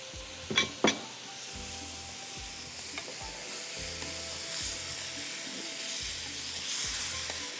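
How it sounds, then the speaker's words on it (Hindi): Macaroni qeema masala frying in a large open pan, a steady close sizzle with rhythmic stirring scrapes and a couple of sharp utensil knocks near the start. "तो पहले मैं इसको थोड़ा सा इस तरह से भून लेती हूँ।"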